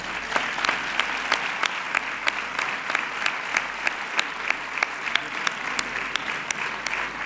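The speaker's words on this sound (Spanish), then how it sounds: "Fuerte el aplauso para él." Applause at a sports awards gala: a crowd claps steadily and evenly throughout, sustained and fairly loud, with a voice faintly audible underneath.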